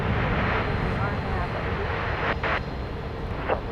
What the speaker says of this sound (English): Once again, taking off from t'other side of the field.